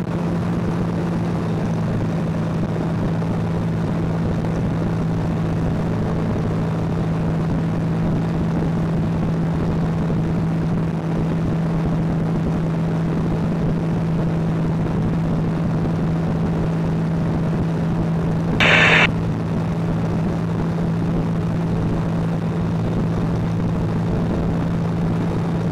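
Light propeller aircraft engine at steady power during a go-around in a traffic pattern, a continuous loud drone with a strong low hum throughout and one brief sharp click near the end.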